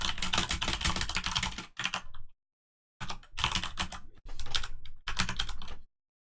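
Rapid typing on a computer keyboard while writing code, close and crisp clatter in several bursts separated by brief pauses, with no talk.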